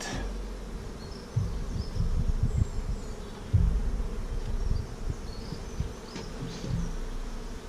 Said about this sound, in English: And lots of bees still in there